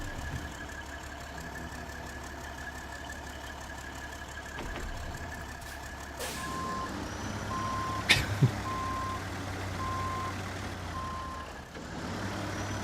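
A truck engine idles and rumbles steadily in a bridge-building driving game set in Quebec, while a reversing alarm beeps at an even rhythm in the second half, over a low constant hum.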